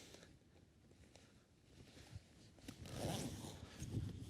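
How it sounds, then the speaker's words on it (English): Zipper drawn closed on the fabric cover of an Infinity IT-8500 massage chair, a faint short rasp building near the end amid light handling rustle. "attach the zipper to hide all that"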